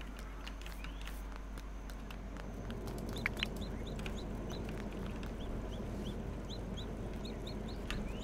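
Chickens in the farming game Dinkum cluck in short, repeated bursts over a soft, steady background, the clucks coming in small clusters throughout.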